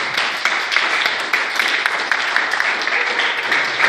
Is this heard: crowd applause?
yes